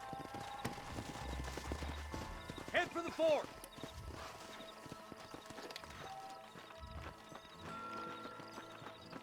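Horse hooves clip-clop in a steady trot in the video game Red Dead Redemption, with a brief whinny midway, while someone speaks over the scene.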